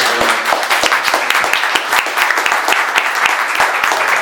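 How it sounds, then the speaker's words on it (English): Audience applause after a conference presentation, a sustained round of clapping from the crowd, steady and fairly loud with sharp individual claps standing out. "let's give a round of applause to our wonderful"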